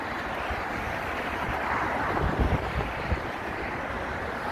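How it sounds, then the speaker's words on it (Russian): Strong wind roars steadily into the microphone near a bridge in Minneapolis, a dense, unbroken rush with a few heavier gusts toward the middle. "потому что ветер сильный, ужасно сильный"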